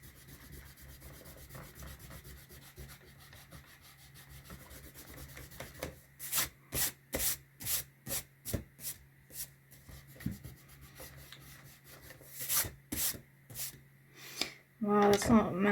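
An eraser rubs on sketchbook paper in a string of short, brisk back-and-forth scrubbing strokes, close and fairly quiet, after a stretch of faint rustling with some talk.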